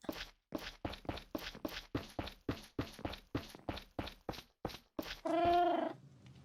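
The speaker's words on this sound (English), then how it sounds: "Thank you for the meow." A cat in a Minecraft house build gives a single drawn-out meow near the end, after a long run of evenly spaced footsteps or tapping sounds.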